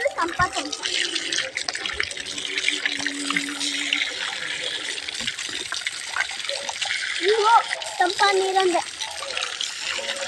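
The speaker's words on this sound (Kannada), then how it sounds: "ಇಲ್ಲಿ ನೋಡಿ ತುಂಬ ತಣ್ಣವಾದ ನೀರು ಬೋರಿಂದ ಸಿಗ್ತದೆ." Very cold water gushes steadily from a borewell tap, a continuous splashing flow while a person talks over it.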